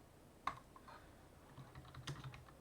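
A computer keyboard is typed on in a quiet room, with a couple of faint, sparse key clicks close by and no voices.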